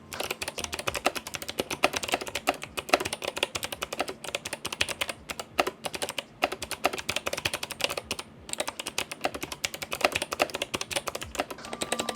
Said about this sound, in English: here's a soundbite of the Carl Box White tactile clicky switches